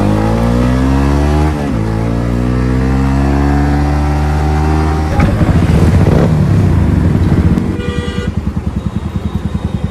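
A Yamaha MT-15 motorcycle with a modified exhaust revs loudly up close, its engine note climbing and falling in pitch before settling into a rough, throbbing idle with a distinct pulsing beat.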